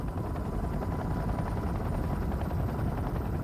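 A military helicopter flies close by near an aircraft carrier, its rotor beating in a loud, continuous low-pitched chop that never lets up.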